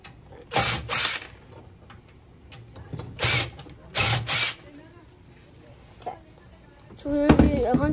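A power tool backing screws out of a computer during a teardown, several short loud bursts in pairs separated by quiet handling noise, ending with a longer ratcheting whir close by.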